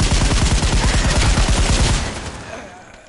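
Rapid automatic gunfire in the game Pavlov VR2, a loud, dense burst of fast rhythmic shots lasting about two seconds before trailing off into fading echoes.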